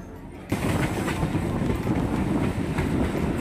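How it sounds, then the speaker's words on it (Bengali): A local train running into Ballygunge Junction, the interior rumble jumping suddenly louder after a brief quieter start, then a steady close roar with clickety-clack wheel rhythm continuing. "আমাদের ট্রেন এখন এসে পৌঁছলো বালিগঞ্জ জংশন"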